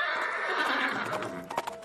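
Horse neigh sound effect: a loud whinny rises and trails off, followed by a few light hoof clip-clops near the end, with no talk over it.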